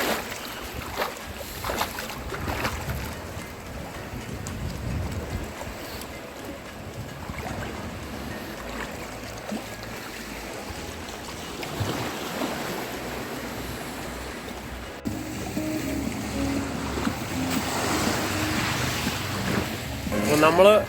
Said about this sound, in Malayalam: ഈ ബോട്ടിലാണ് നമ്മൾ വന്നത്.